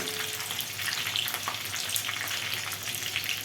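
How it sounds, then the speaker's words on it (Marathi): Green chillies and curry leaves stirred in hot frying oil, a dense, loud crackling sizzle that stays continuous and close with no voices. "मिरची कढीपत्ता वगैरे चांगला हलवून घ्यायचं."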